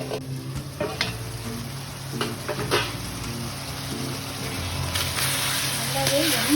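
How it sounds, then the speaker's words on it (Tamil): Chicken pieces tossed with masala in an oily pan for a pepper chicken fry, a steady sizzle with repeated scraping stirs of the spoon against the pan, close and continuous. "சிக்கனை போட்டு கொஞ்சம் நேரம் அந்த மசாலாவோட 2 நிமிஷம் கிளறி விட்டுட்டு"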